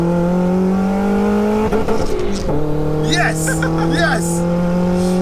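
A turbocharged 1-litre Nissan Micra pulls hard in second gear, engine note climbing loud and close with a brief gear change midway and a rising whine; someone speaks briefly over it.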